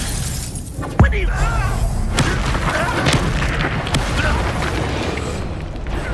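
Expelliarmus spell from Hogwarts Legacy lands with a sharp booming impact and shattering burst, followed by a rumbling, creaking magical tail and later softer thuds.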